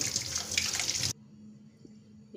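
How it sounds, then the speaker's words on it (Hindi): A bottle gourd is rinsed under a running kitchen tap, giving a close, splashing gush of water that stops abruptly after about a second, leaving a quiet room with faint thumps. "ये लौकी धोई मैं"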